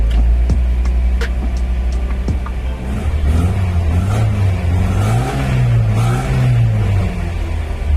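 A 1998 Opel Blazer DOHC LT with multi-port fuel injection revs loudly up close, its engine pitch climbing and falling in repeated rising swells over a steady running drone, with a few sharp ticks early on.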